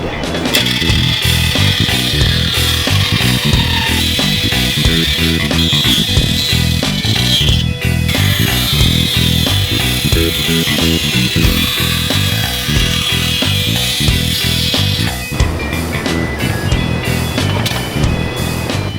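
A saw cutting wood for a front fender on a Honda Helix scooter, a loud continuous buzzing drone with a steady pitch shift near the end, close and unbroken for about nineteen seconds.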